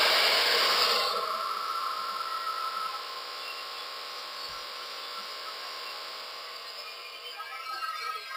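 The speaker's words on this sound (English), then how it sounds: "I'm just going to blow dry it a bit more" Hair dryer blowing on bridal hair, a loud steady whoosh at first that drops to a lower, continuous hum and carries on evenly to the end.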